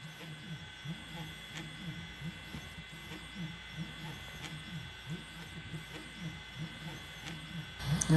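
A 3D printer builds a rocket ship model, giving off a steady low mechanical whir with rhythmic stepper-motor pulses and a faint high hiss, continuous and fairly quiet throughout.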